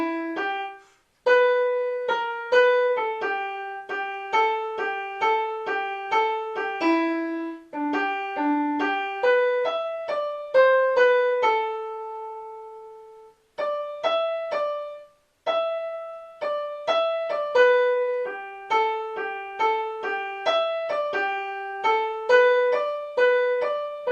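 Piano picks out a tune from Disney's The Jungle Book in a simple, easy arrangement, a clear run of single notes and chords that rings alone with a short pause midway and no talking.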